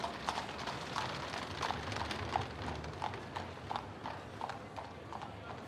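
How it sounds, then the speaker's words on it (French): A horse-drawn carriage passes along a calm street lined with Victorian houses, its hooves clip-clopping in a steady, even rhythm at moderate distance with no voices. "Une calèche passe."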